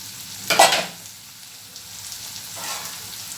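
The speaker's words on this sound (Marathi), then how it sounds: "छान परतली आपली भाजी ही कारल्याची" Thinly sliced bitter gourd sautéing in a pan, with a sudden short burst of sizzling and stirring early on, a quieter stretch, then a softer sizzle returning near the end.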